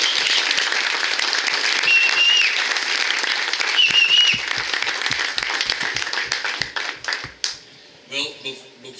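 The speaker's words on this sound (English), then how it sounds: "I think we ought to give Edward a big round of applause and these gentlemen for a great job." Audience applause at a golf awards presentation, the 2017 Dogwood, dense steady clapping for several seconds before thinning into scattered claps as a voice begins to speak.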